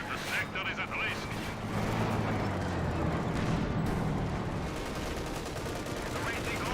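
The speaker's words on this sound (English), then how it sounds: "Short barrel Panzer IV fires away, rolls a miss" A short-barrel Panzer IV tank fires in the Company of Heroes 2 video game, its shot sitting among continuous gunfire and battle rumble, with a commentator talking over the action.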